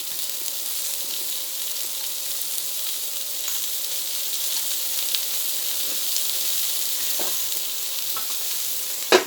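Fish frying in a covered pan of oil gives a steady, even sizzle and hiss throughout, with a few faint clinks and a sharper knock right at the end, and no one speaking.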